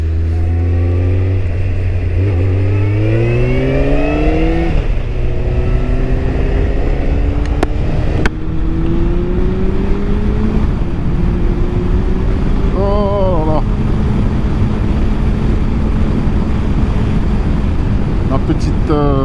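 A motorcycle engine on the road is revved hard, its pitch sweeping up and down in loud, close bursts over steady wind and road rumble, while someone talks over it.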